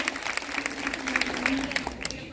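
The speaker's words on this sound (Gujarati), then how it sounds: "જોરદાર તાળી પડો" An audience at a women's religious gathering claps in a steady burst of applause while a voice talks over it.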